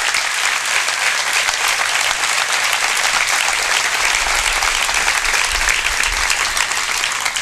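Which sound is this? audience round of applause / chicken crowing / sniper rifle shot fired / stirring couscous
audience round of applause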